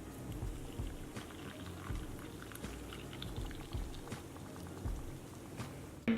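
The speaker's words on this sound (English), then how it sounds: "my kettle is just boiled, so I just pour water in." Just-boiled water from a kettle pours into an AeroPress while brewing coffee at home, a steady bubbling, trickling liquid wash running close and continuous for several seconds, with a brief louder knock at the very end.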